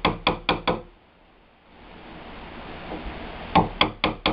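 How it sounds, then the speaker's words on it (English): Chisel struck into the edge of a 1.5-inch-thick wooden shed door, four sharp close knocks in quick succession, a quiet pause, then four more evenly spaced blows. "But when I go to chisel this out,"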